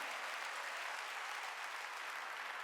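Dense, steady applause from a church congregation at a Wednesday worship service, continuous and even throughout with no voices standing out.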